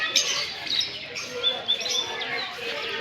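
Parrots chirp and tweet in bright, repeated calls at a kids' carnival in Porbandar, with a busy background hum and faint voices underneath.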